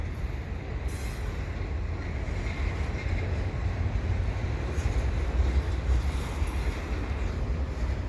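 A Canadian Pacific freight train led by an ex-red-barn Central Maine and Quebec locomotive passes beside a bike path in Dorval, giving a steady, loud rumble of rolling railcars with faint wheel squeal throughout.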